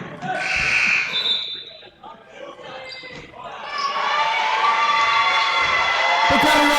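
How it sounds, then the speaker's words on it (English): At a high school boys' varsity basketball game, a gym crowd swells into a loud, sustained roar of cheering after a few quieter seconds of court noise, with voices talking throughout. "The crowd erupts."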